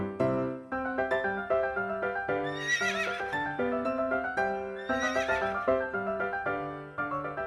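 A horse neighs and whinnies loudly in long, shaky calls, with clip-clop hoofbeats and sung children's music running underneath.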